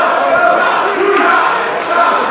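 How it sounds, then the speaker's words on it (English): Pro wrestling crowd at a Battleground event chanting for the wrestler Piranha, a dense, steady roar of many voices sustained throughout and fairly loud. "Crowd's chanting for Piranha to get in there"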